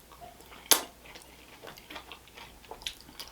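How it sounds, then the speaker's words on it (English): Crunchy vegetables such as bok choy are chewed with noodles from a Chinese takeout meal, giving one sharp crisp crunch followed by softer, irregular close chewing and smacking with no talking. "The crunch from there, from the vegetables."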